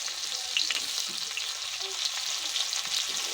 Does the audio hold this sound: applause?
no